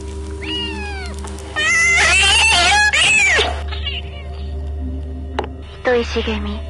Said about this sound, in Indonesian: Lalu terdengar ada suara kucing kesakitan.